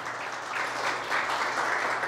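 Church congregation clapping during a sermon, a brief, fairly soft burst of many hands applauding together.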